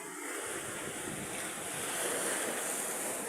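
Ocean waves on a wide open sea, a continuous broad wash of surf mixed with wind rushing against the microphone, steady and fairly loud with no voices.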